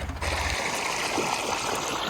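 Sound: irrigation water flowing into a cumin field

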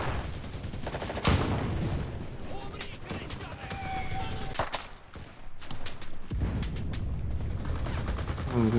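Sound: PPSh submachine gun fire in video game Enlisted

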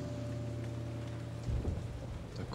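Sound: rain in video game Eternal Darkness

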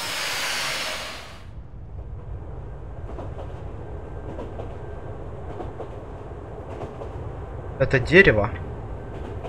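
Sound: train in video game Mind: Path to Thalamus

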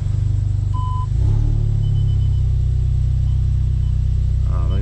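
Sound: modified Audi S3 engine while driving

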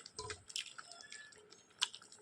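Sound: ground coconut poured into fish curry

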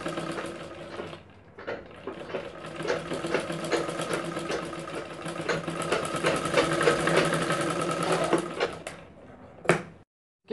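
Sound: sewing machine stitching lining and fabric

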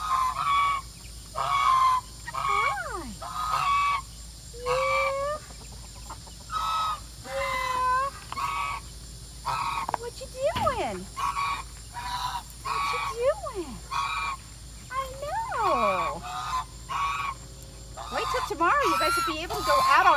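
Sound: geese honking

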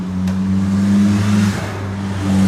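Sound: engine revving as throttle is twisted

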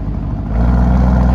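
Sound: Lamborghini Urus engine and exhaust revving in Corsa mode

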